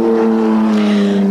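A race car on the track at Bathurst in 1991, a loud, steady engine drone with strong tonal harmonics, held close and constant for just over a second.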